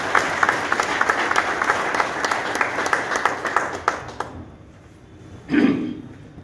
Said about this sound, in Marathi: एकदा टाळ्या वाजा मी सांगतो